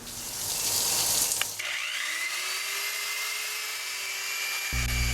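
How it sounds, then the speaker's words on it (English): A grinder running grit polishing pads across a concrete countertop, a loud continuous high-pitched whine with a sharp shift as the pad bites, then a steadier drone and a sudden low rumble at the end. "Here we are polishing with some of the higher grit polishing pads"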